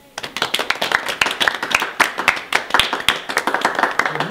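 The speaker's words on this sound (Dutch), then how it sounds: "Een mooi, bescheiden applaus." Hands clap in a steady, modest round of applause from a small group, the claps crisp and close and continuing evenly throughout, with no voices over them.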